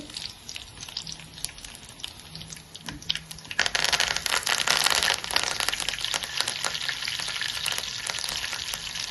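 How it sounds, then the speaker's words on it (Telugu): Curry leaves drop into hot oil with peanuts and crushed chillies for a carrot and moong dal curry. The pan spits into a loud, crackling burst of frying that stays dense and close, with occasional stirring, and there is no talk. "ఇప్పుడు కొంచెం కరేపాకు వేస్తున్నామండి"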